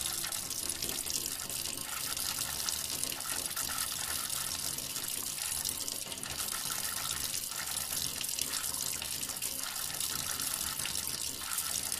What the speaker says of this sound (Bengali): বাথরুম থেকে কলে জল পড়ার শব্দ পরিষ্কারভাবে আমার কানের মধ্যে এসে লাগলো।